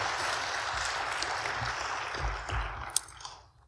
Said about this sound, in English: Yes, you may applaud that.